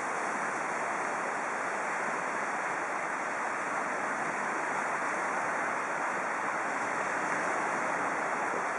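Sea surf rolls onto a beach at night as a loud, continuous roar of breaking waves and wash, steady and close with no voices.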